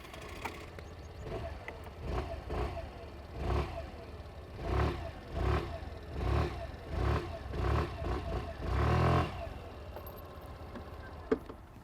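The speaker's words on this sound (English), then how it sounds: "let's have a listen to the exhaust" A Suzuki Avenis 125 scooter's exhaust is blipped repeatedly, about a dozen short throttle revs in an even rhythm, fairly quiet and bassy, ending in a slightly longer rev.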